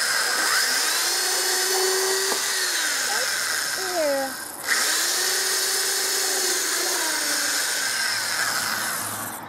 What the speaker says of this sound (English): I don't think she likes the drill, Art.